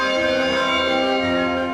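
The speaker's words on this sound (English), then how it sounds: "I love the sound in between the strikes when the bell is on the move" A large church bell at Great St Mary's, Cambridge, hums with a steady ringing tone, its harmonics sustaining loudly and evenly throughout with no fresh strike.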